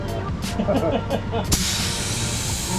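A spray gun applying sealer to a 1969 Dodge Charger lets out a sudden loud, steady hiss that starts partway through and continues, following a stretch of shop noise and talk.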